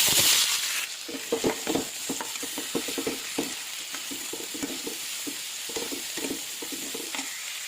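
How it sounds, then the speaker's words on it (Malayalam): Onions sauté in coconut oil with mustard seeds: a steady sizzle close by, with rhythmic scraping and clicking strokes of a spoon stirring in the pan throughout. "അപ്പോൾ നമുക്ക് നന്നായിട്ട് വഴറ്റിയെടുക്കാം."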